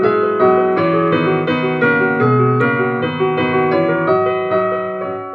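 An excerpt of Beethoven's 1796 piece based on a poem of unrequited love plays as sustained, chordal tonal music with a gently shifting melody, clear and prominent, with no talk over it.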